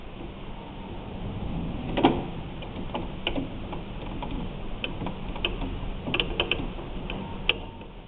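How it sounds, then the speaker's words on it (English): Screw being driven back in by hand while replacing a cap, a run of small close ratcheting clicks and ticks over a low background, with no talking. "Now we're going to go back to the top, get that one screw, and we're going to put that screw back in."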